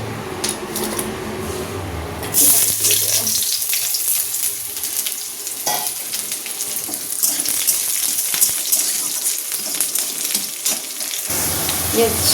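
Oil with bay leaves and chillies frying in a pan before cabbage is added, a loud, continuous bright sizzle with running-water-like hiss and a few louder surges, close and uninterrupted.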